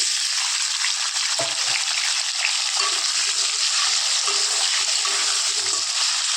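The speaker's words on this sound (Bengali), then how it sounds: "এবার আলুগুলো ভেজে নেব।" Potatoes frying in hot oil, a steady, close sizzling hiss that holds loud and even throughout, with occasional stirring clinks and no voices.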